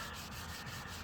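Dry crosshatch sanding on the body of a 1957 Chevrolet Bel Air gives quiet, continuous rubbing strokes with faint rhythmic swishes, brief and low in level.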